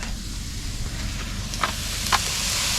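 Garlic sizzles with potatoes in a camp pan over a steady frying hiss, with a couple of brief sharper crackles near the end, close and moderately loud.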